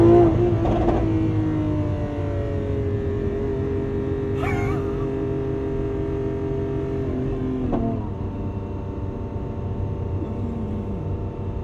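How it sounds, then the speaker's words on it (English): A Lamborghini Aventador Ultimae's naturally aspirated V12 roars loudly under launch-control acceleration, its tone climbing through gears in long sustained pulls with brief shift breaks, heard from inside the car. "It's the launch control system where you just hold your foot hard on the brake, pin the throttle, wait for it to build up revs, and then let it go"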